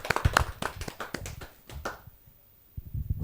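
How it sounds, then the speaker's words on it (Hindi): A few people in the audience at a Hindi poetry recital give scattered, uneven claps up close that die out after about two seconds, leaving near silence with faint low rustles. "जा जोरदार ताली के साथ युवराज भट्टराई।"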